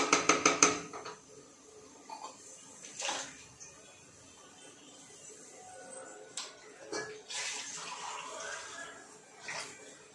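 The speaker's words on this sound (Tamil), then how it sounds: "கொஞ்சமா தண்ணி ஊத்திக்கலாம்" A little water poured into a pan of masala and vegetables for vegetable biryani, a brief splash and clatter near the start followed by a few soft knocks and sizzling bursts, close and fairly quiet.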